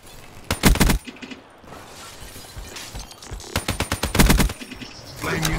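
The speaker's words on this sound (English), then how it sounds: "I'm really liking this Man O' War. It's a really powerful assault rifle." Man O' War assault rifle firing in Black Ops 3 multiplayer, loud close bursts of rapid automatic shots in two volleys with a quieter stretch between, other game sounds trailing at the end.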